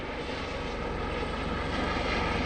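Coast Guard rescue helicopter maneuvering at a lakeside airshow demonstration, its rotor beating in a fast, even pulse over a constant engine roar, close and loud with no other sounds.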